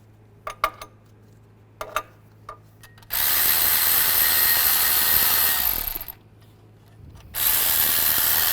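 Power tool spinning out bolts with a 13mm socket on a 1998-2010 Volkswagen Beetle engine bay, two sustained loud whirring bursts after a few soft clicks and knocks, with a pause between them.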